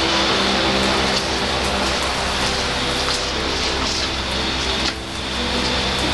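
Steady rain falls outside, a dense, even hiss of drops on surfaces that holds at a constant loud level throughout with no voices.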